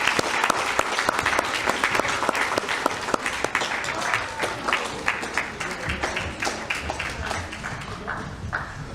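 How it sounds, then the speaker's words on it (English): An audience claps steadily in a dense round of applause for a middle school choir at a Yom HaShoah commemoration in a synagogue; the applause stays loud throughout and thins slightly toward the end. "Let's have a large round of applause for them,"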